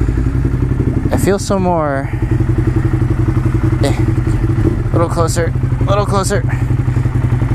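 A motorcycle idles steadily and loudly while the rider, in full gear, sits on it; the low rumble runs throughout beneath close, excited talking.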